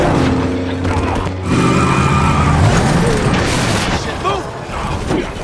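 A car driven by a drunk man skids toward Dalton on a bridge, with tire screech and engine roar over a dense crashing, rumbling film mix, loud and sustained, with voices underneath.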